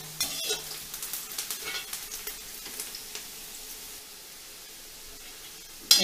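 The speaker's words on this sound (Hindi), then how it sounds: "प्याज को थोड़ा अच्छे से भूनेंगे ताकि इस कबाब में जो कच्चा है, जो कच्चेपन की वजह से इसके बहुत जल्दी ख़राब ना हो।" Chopped onions sizzle and fry in a pan while being stirred for peanut kebabs, giving a steady frying hiss with a soft run of stirring scrapes and a sharper clatter at the end.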